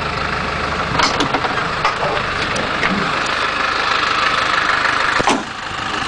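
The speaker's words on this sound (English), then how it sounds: "You can hear the engine." A 1985 Land Rover with a 2¼-litre engine and five-speed gearbox idles smoothly and steadily close by, a continuous even rumble with no voices over it.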